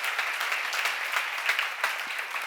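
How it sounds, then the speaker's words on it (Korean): A church seminar congregation applauding, dense steady clapping from many hands filling the room, fairly close and even throughout. "빨리 박수해"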